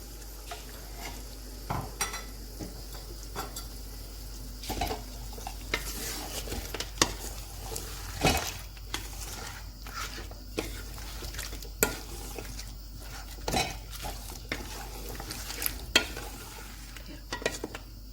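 Beef biryani masala being stirred in a pot after whisked yogurt thinned with a little water is added, with soft repeated scraping and stirring knocks over a low, steady sizzle, no talking.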